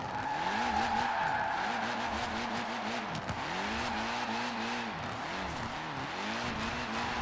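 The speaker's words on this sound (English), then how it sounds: "Front wheel drive drifting, huh?" A front-wheel-drive car in Forza Horizon 4 drifts with continuous tyre skid and squeal over a steady engine drone, the revs rising and falling in repeated sweeps, loud and close throughout.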